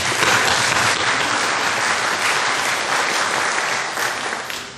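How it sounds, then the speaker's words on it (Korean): A church congregation claps loudly together to welcome a visitor, a dense, sustained round of applause that fades slightly at the end. "지연 자매 잠깐 일어나시면 크게 박수로 환영합니다"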